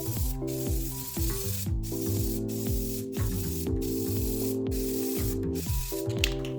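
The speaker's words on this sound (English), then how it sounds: "I paint all the faceplates black with 2 coats of black spray paint" Steady hissing spray from an aerosol can of black paint coating faceplates runs almost continuously, broken by short pauses, with a metallic rattle and droning music underneath.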